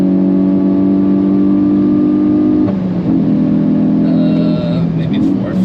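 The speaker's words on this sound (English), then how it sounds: "And first time we're hitting the rev limiter." Hyundai i20 N hot hatch on the Nürburgring, its engine held at the rev limiter in a loud steady buzzing drone, breaking off once mid-clip and then resuming, under a speaking voice.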